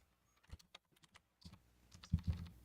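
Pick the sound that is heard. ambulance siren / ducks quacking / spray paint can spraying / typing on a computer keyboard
typing on a computer keyboard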